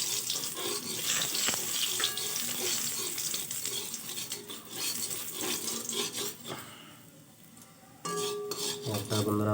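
A spoon clinks and scrapes against a pot while curry is stirred during home cooking, with a steady wet, clattering texture that runs the whole time and a brief quieter dip near the end.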